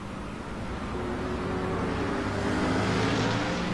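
A sprint race car passes on a racing track, its engine building into a loud, steady roar that swells toward the end of the pass.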